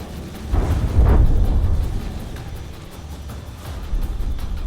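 A big explosion booms in the naval battle game From the Depths as a cruise missile strikes, a deep low rumble swelling about a second in and fading into a sustained roar, with no talking.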